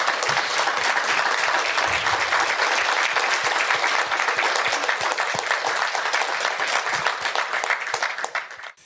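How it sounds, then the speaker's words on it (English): Sustained audience applause fills a room at a talk event in Scotts Valley, dense steady clapping close and loud for most of the span before tapering off at the very end. "How about a big round of applause for them?"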